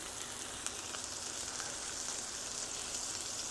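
Pork chops fry in butter in a pan, a steady, dense sizzle and crackle with fine popping that stays even and close throughout, with no talking.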